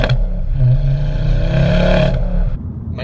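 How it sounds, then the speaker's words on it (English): A modified Ford Focus ST's exhaust note, a loud, steady engine drone that rises slightly mid-clip and cuts back near the end, close to the car with no talking. "But that exhaust note, I can't get over how cool that sounds."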